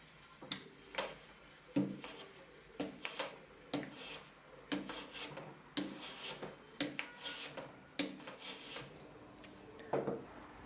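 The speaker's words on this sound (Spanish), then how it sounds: "cepillamos la cara frontal quitando más material del lado del que tocaba la escuadra" Hand plane shaving the wooden fence face of a shooting board, a steady series of about a dozen rasping strokes in an even rhythm, close and fairly loud, with no talk.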